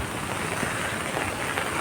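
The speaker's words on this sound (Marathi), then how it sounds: "खूप वर्षात नाही एवढा मे महिन्यातला प्रचंड पाऊस पाहिला आहे" An unusually heavy May downpour over waterlogged fields, like a cloudburst, roars as a steady, dense hiss with no pauses and no voices.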